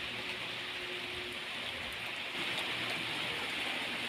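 A constant rushing hiss of heavy rainfall, steady and enveloping, growing slightly louder partway through.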